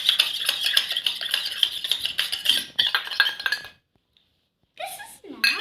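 Slime is stirred together with activator in a bowl, giving rapid, bright clinking and sticky scraping strokes in a busy rhythm for several seconds. A short silence follows, then more brief squelchy stirring returns.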